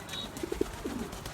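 Racing pigeons at a Bangladeshi fancier's loft give a few soft, low coos in quick succession, faint and fairly close, over a quiet background with no talk.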